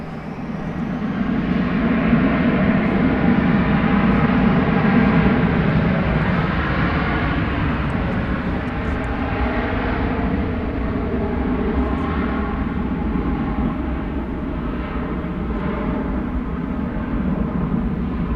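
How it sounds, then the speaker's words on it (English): American Airlines Airbus A321 jet airliner bound for Salt Lake City, passing at night at Dallas Fort Worth airport, a steady broad engine roar that swells early and then holds loud and even, with no voices. "This is American Flight 2378. It's an Airbus A321."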